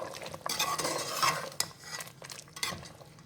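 Onions being stirred into a pot of degi chicken korma, with scraping and clinking of a spoon against the pot over a light sizzle, close and fairly busy for a few seconds.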